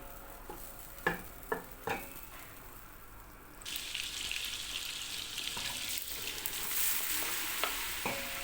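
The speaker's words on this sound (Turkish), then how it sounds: "Bunu güzelce kokusu çıkana kadar kavuracağım" Ingredients for Karaman-style pumpkin soup sauté in a hot pan: a few sharp knocks and clatters, then a steady sizzling hiss with soft stirring scrapes, close by and without talk.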